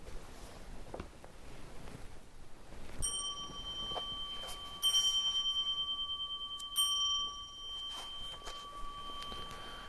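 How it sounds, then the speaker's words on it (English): Three strikes of a meditation bell ring out at a Zen temple talk, each a clear metallic tone that rings on and fades, spaced a couple of seconds apart over a quiet room. "3 bells."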